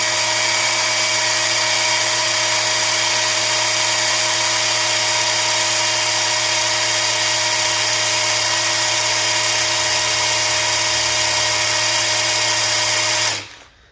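A hammer drill on its hammer setting whines steadily at a high, constant pitch for over ten seconds, loud and close, then stops abruptly.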